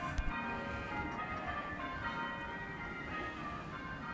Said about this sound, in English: we have a glorious Sunday and the church bells ringing